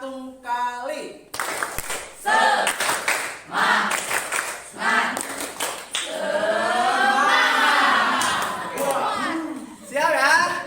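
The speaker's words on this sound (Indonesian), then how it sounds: "Ulangi lagi, tepuk semangat 1 kali" A group claps together in unison during a classroom-style spirited clapping routine, sharp bursts of hand claps mixed with loud voices and someone speaking in between.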